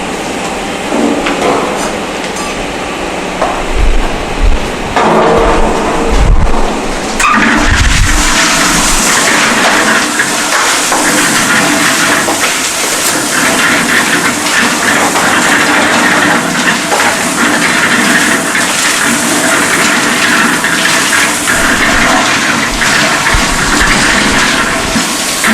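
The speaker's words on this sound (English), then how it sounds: "So we are going to add the coarse aggregate to the concrete mixer." A concrete mixer churns coarse aggregate, a loud continuous rumbling wash of stones tumbling in the rotating drum, with a few heavier thuds early on before the steady roar settles in.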